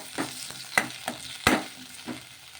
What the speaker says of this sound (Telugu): ఇలా నూనె వేసుకొని ఒకసారి బాగా కలిపేసుకొని ఈ టమోటాలని పచ్చిమిర్చిని మగ్గించేసుకుందాము.